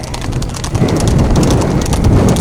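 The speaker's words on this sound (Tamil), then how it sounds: "முதலிடத்தை பிடிப்பதற்கு முதல் நான்கு குதிரைகளுக்கும் கடுமையான போராட்டம்" Racing horses gallop during a race in Coimbatore, their hooves clip-clopping in a fast, steady rhythm. The hoofbeats are loud and close and swell midway, with wind buffeting the microphone.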